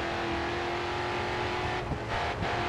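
Race car engine in the video game Grid 2 during an early World Series Racing event: a continuous high engine drone at steady revs, with brief shifts in pitch near the end, no voices.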